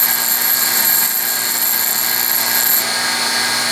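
A bench grinding wheel squaring the rough end of a metal carriage stop body gives a steady, loud, bright hiss and whine that holds evenly for several seconds, with no speech.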